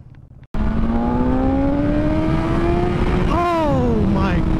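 A 2022 BMW S1000XR sport motorcycle revs hard and accelerates up through the gears, loud and close, its engine note climbing steadily then dropping at a shift before pulling again.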